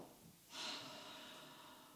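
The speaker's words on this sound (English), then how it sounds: "Breathing." During a yoga session in Siddhasana with extended child's pose, a single quiet, close breath is audible, a soft airy inhale or snort swelling briefly, then settling into faint room hiss.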